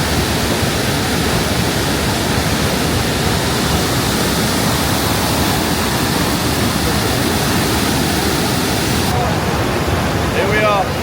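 Roaring waterfall at the Devil's Throat, Iguazú Falls, a dense, steady wall of loud rushing water that stays close and unbroken throughout.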